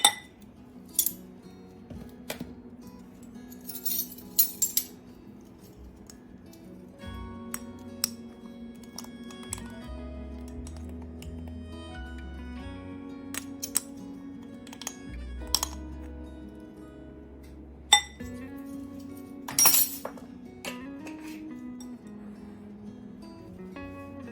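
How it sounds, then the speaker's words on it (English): Spiced pumpkin whoopie pie batter being mixed in a bowl, with quiet scraping and sporadic sharp clinks of a utensil against the bowl, faint and close, over a soft hum of background music. "And just give this a nice mix."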